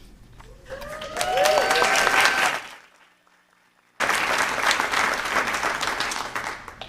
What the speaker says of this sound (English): that applause is not for me